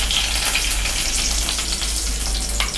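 Mustard seeds, chana dal and green and dried red chillies frying in hot oil, a loud continuous close-up hiss and crackle with no pauses.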